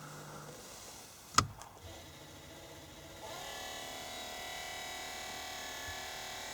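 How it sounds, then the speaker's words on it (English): An electric bed motor, with no worm drives connected, switches on after a sharp click and settles into a steady, low, fairly quiet hum and whir. "So we're going to see if a motor actually works."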